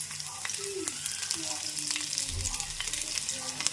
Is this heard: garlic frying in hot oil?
yes